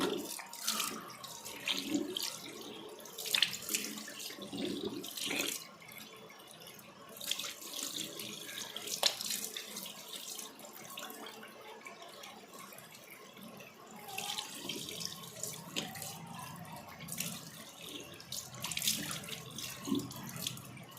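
Running tap water splashes steadily into a sink while a face scrub is rinsed off, a continuous close washing sound with small surges and no talking.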